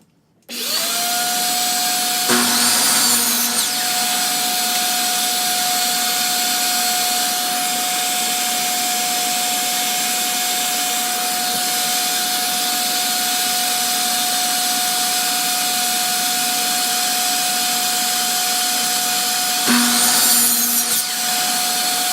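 Power saw squaring the ends of a pallet wood board and cutting it to length, a loud steady whine running continuously for about twenty seconds with brief bursts of cutting noise at the start and end.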